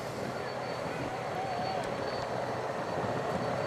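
Helicopters flying over the Tour de France peloton at Gourin in 2008 give a steady, dense rotor and engine roar that holds without a break, loud and close.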